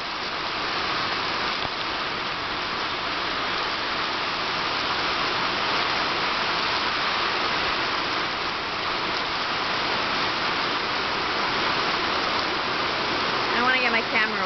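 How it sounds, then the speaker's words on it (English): Heavy rain falls steadily in Njombe, Tanzania, seen from a front porch overlooking school grounds. It is a dense, unbroken hiss that stays loud and constant throughout, with a faint chirp or voice near the end. "this is Tanzanian rain from my front porch"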